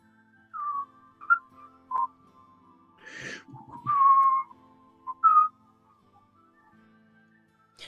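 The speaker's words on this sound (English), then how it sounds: "can you right now, in front of everyone, whistle for me?" A person whistles a few short, uneven notes with pauses between them, close and fairly clear, with a breathy sound in the middle.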